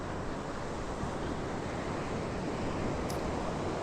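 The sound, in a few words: ocean waves breaking on beach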